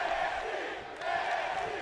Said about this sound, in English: The crowd showing its appreciation